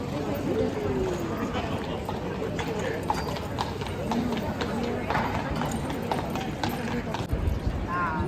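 Horses clip-clop steadily along a street in Krakow, Poland, their hooves knocking in a continuous uneven rhythm amid busy crowd chatter and people talking nearby.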